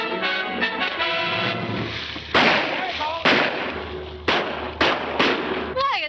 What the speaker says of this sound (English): Why are they shooting at him?